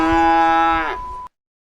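A cow lets out a single loud, sustained moo lasting about a second, close and clear, ending abruptly with silence after.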